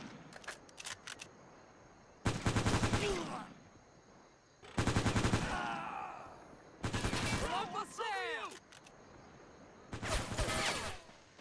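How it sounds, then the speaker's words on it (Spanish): Enemy machine gun in a Pacific WWII battle game set in the Mariana Islands, firing four loud, dense bursts of rapid automatic fire, each a couple of seconds long, separated by short gaps with quieter background gunfire. "Aquí tenemos otra ametralladora, ¿vale? Que tendremos que intentar eliminar con el blindado"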